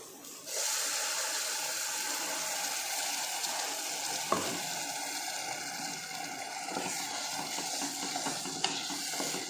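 Ground masala paste for meal maker kurma hits hot oil in a pan and sizzles loudly and continuously, with a few faint clicks of a spoon scraping the pan.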